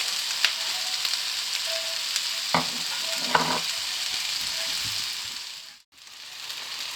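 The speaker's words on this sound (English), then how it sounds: "so I'll now chuck in the peppers, and we're going to fry them up for 6 or 7 minutes" Onions and peppers fry in a hot pan with a steady, dense sizzle, close and loud, broken by a few scraping stirs and clacks of a utensil against the pan.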